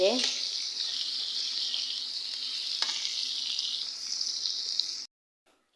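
Pangas fish fry in hot oil in a pan, giving a steady, bright sizzling hiss for about five seconds before it cuts off abruptly into silence.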